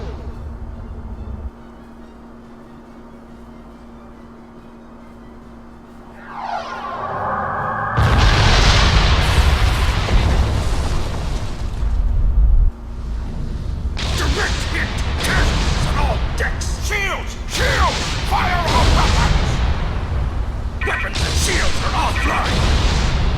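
Ship weapons fire and explosions in the Star Trek Online space game, a loud broadband blast bursting in after a quieter hum, followed by a sustained barrage of crackling impacts and booms.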